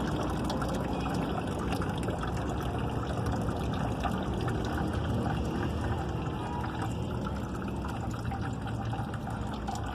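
Rusty water drains from a Suzuki car radiator in a steady, continuous splashing gush, close and moderately loud, unbroken for the whole stretch.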